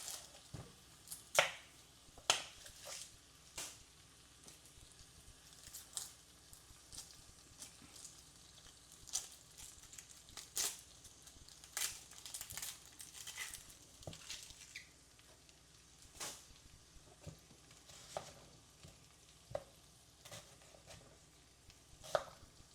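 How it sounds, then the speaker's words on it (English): A knife chopping onions on a cutting board for caramelized summer squash, with irregular crisp cuts at close range in a quiet kitchen and no talking. "while I cut the onion"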